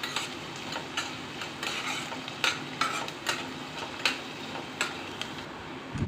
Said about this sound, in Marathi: आता आपला कांदा काय झालेला आहे, जवळपास आपला परतून घेतलेला आहे, छान असं तेलामध्ये कलर बदललेला आहे